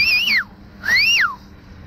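Two loud rising-and-falling whistles, each about half a second long, carry across open country while a person herds sheep.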